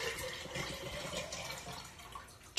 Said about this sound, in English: So I'm just gonna pour this into here.